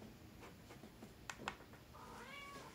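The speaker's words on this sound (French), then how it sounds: "J'ai un chat qui proteste." A domestic cat meows for attention, a faint, drawn-out high cry near the end after a couple of soft clicks, quiet indoors with no talking.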